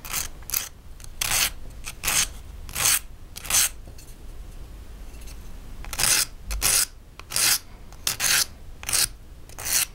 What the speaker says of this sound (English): Then I'm gonna move on to sanding. This is a sanding stick.